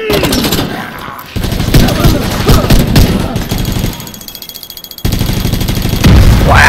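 Rapid turret gunfire rattles in loud automatic bursts, stopping and resuming with short gaps, heavy and close over engine rumble and battle noise.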